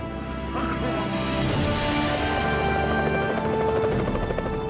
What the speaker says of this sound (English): we heard the chopping noise of the helicopter coming